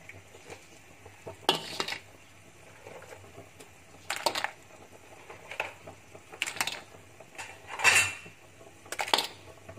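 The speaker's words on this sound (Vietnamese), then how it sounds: "Và sau đó thì mình sẽ sắp ghẹ vào các bạn." Blue and flower crabs being set into a metal steaming pot with lemongrass, making close, intermittent clanks and clattering knocks in separate bursts, with no talking.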